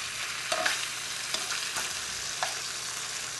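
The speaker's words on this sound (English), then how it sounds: "My pork is still browning back here and doing pretty good." Pork browning in a frying pan gives a soft, steady sizzle with a few sharp pops and light clicks standing out, fairly quiet and with no one talking.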